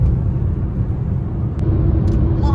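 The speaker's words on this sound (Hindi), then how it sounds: "लोड ले रही है गाड़ी।" A car engine labours uphill on a mountain road between Chandigarh and Manali, a steady low rumble and drone that stays close and continuous throughout.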